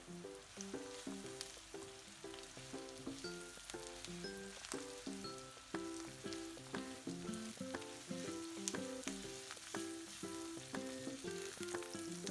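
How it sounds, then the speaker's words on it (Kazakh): Carrots fry over onions in a pan with a continuous crackling sizzle, while a spoon stirs with regular scraping strokes up close. "Жуанның үстінен сәбізді салып қуырамыз."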